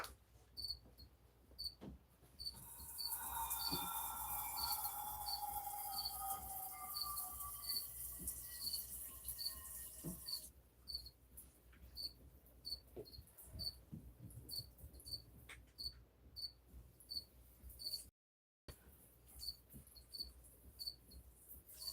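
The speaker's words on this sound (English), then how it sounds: "Cricket noises." Crickets chirp steadily at night outdoors, with a dense high-pitched insect chorus and a rising whistling trill in the first half, then a thinner, regular pulsing chirp that continues to the end.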